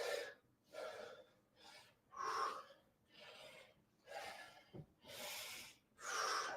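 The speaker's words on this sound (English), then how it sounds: "Big breathing." Heavy workout breathing during split squats, a steady series of loud, close, forceful breaths in and out with brief pauses between them.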